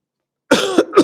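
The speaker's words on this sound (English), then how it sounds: "I apologize for the coughing." Close, loud coughing from a person who has been sick with a lingering cold for over a week: a harsh cough burst followed by two more, with no talk.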